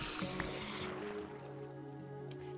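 Water splashes and sloshes softly as a character swims in Minecraft, a short, quiet watery movement with faint tonal game sounds underneath.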